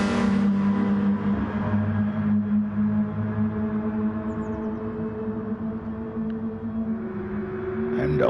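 Race car engines in a Super GT racing game, a steady loud droning roar that holds for several seconds and rises in pitch slightly toward the end, with no other sounds standing out.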